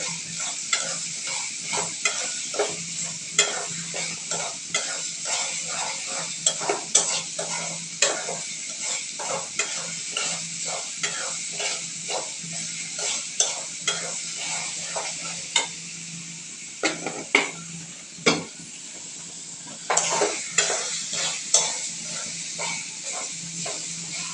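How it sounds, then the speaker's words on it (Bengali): Prawns frying with salt in a pan as they are stirred, a continuous hiss and sizzle broken by rhythmic scraping strokes, close and steady with no voices. "লবণ দিয়ে নাড়াচাড়া করতেছে খুব সুন্দর করে"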